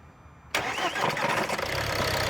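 Ford Mondeo engine in limp mode being started: a short quiet lead-in, then the starter catches abruptly and the engine settles into a loud, steady idle close by, with no talk.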